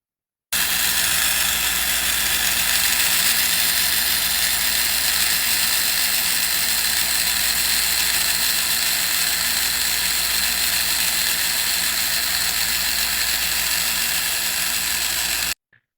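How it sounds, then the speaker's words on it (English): A Merlin rotary tool fitted with a cotton-backed industrial abrasive brush runs steadily, with a loud, close, continuous high-pitched whir and a rasping mechanical texture that starts abruptly and stops abruptly. "The abrasive brush is best used when you're kind of a finishing up tool."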